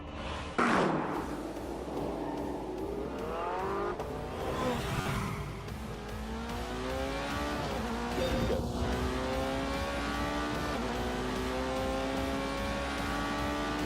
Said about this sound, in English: Soon, the McLaren and the Porsche were ready for some shakedown laps.